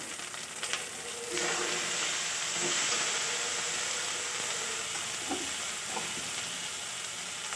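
Spices with dry chili powder and black pepper powder frying in hot oil for a fish-head curry, a dense, loud sizzle that swells after the first second and holds steady, with a few faint stirring knocks.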